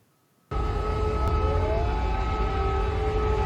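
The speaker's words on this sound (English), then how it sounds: "the sirens going off from Kiev" A loud wailing air raid siren in Kyiv starts abruptly and holds steady, with a rising and falling tone sweeping over a dense, rumbling background.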